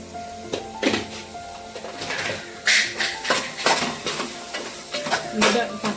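Chili powder being stirred into a beef and tapioca (kappa) mixture for kappa biryani, with a spoon scraping the pan in repeated strokes over a soft sizzle, close and moderately loud.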